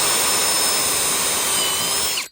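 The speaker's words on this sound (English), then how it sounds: "I'll be drilling these out with a drill bit and sliding this out of the way." A power drill with a bit bores out plastic push clips on a Jeep bumper, a loud continuous high-pitched whir held for about two seconds before stopping abruptly.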